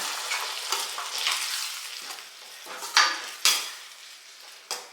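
Cooked toor beans frying and being stirred in a pan for a Karnataka-style palya, with a steady sizzle broken by several sharp scraping clinks of a utensil against the pan, near and without talk.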